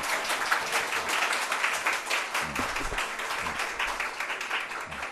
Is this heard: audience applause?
yes